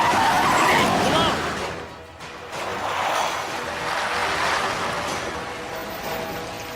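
A car skids loudly as it swings around in an action movie scene, tires scraping hard for about two seconds before dipping, then the engine roars on.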